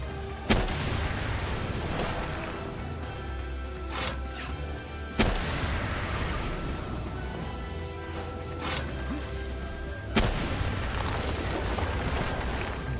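A legendary rocket launcher firing in Palworld: several sharp, heavy blasts spaced a few seconds apart over a constant low rumbling background, with no talking.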